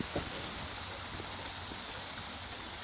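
Autumn rain falls outdoors, a faint, steady hiss of drops with no voices.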